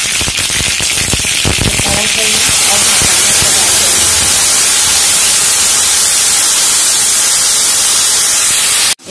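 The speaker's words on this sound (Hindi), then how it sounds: "अब मैं सरसों और मिर्चा को तड़का लगा दूंगी" Loud, dense hissing and sputtering as seeds and chillies hit hot oil, with sharp crackling pops at first settling into a steady roar.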